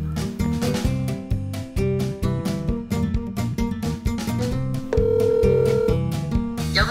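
A telephone ringtone plays out loud and close, a repeating electronic melody of bright tonal pulses lasting several seconds in a countryside home garden.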